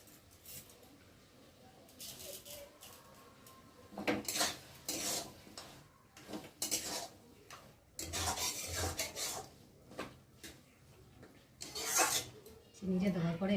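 A metal spatula scrapes and clanks against a pan while fish head and cabbage curry is stirred, in irregular bursts of scraping with quieter pauses between, and a voice talks faintly in the background.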